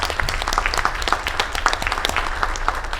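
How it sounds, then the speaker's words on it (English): Audience applause at a Mayor's Night Out community event, a dense, steady wash of many hands clapping close by for about three seconds, with no talk over it. "Could you give them a big round of applause, everybody?"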